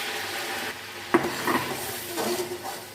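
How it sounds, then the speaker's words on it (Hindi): Garlic and onion paste being stirred into oil in a pan for chicken chanay, with a few distinct scraping knocks of a spoon against the pot over a low steady sizzle, close and moderately loud. "लहसुन और प्याज को ऑयल में हम मिक्स कर लेते हैं"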